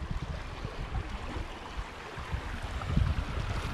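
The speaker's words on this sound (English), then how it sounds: "Here's how Wilson Creek looks today." Wilson Creek, about 2.5 to 3 feet deep where it erodes its bank on the Wilson's Creek battlefield, gives a steady, faint outdoor wash of flowing water with low rumbling gusts and no talking.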